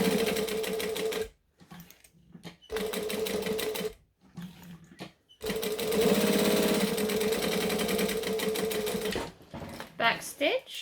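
A sewing machine stitches a zip in rapid mechanical bursts, whirring runs broken by short pauses, with a voice speaking at times.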